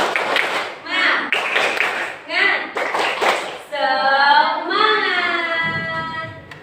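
A primary school class performs a rhythmic spirit clap, bursts of group clapping in a patterned beat mixed with children chanting and the teacher's voice in a classroom.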